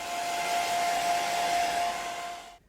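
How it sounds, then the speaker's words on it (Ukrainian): A hair dryer blows with a steady whooshing hum and a faint whine, running alone for a couple of seconds before switching off abruptly. "Я зараз феном підсушу."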